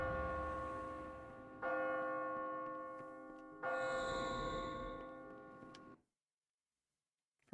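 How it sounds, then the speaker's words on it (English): A church bell tower rings in Kingdoms of Amalur: Reckoning, three resonant strikes a couple of seconds apart, each ringing out and slowly fading before cutting to silence. "that's to ring the bell tower"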